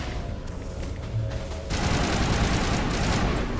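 Sustained gunfire and explosive battle noise in the Mass Effect video game, a dense continuous roar that grows louder partway through, with no talk.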